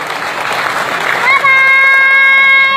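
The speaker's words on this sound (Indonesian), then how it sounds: "Silakan tepuk tangan buat diri Anda sendiri." Audience applause at an Indonesian investment presentation: a dense wash of clapping fills the first second or so, then gives way abruptly to sustained bright musical tones.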